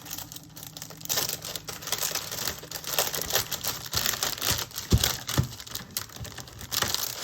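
Sheets of vellum and text weight paper being handled, a continuous run of crisp crinkling, rustling and sliding sounds with sharper snaps here and there, close to the microphone and without talking.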